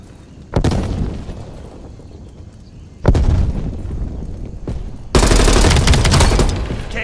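A frag grenade blast and bursts of gunfire in the video game Call of Duty Black Ops Cold War, three loud heavy booms and volleys arriving in succession, each followed by sustained crackling fire.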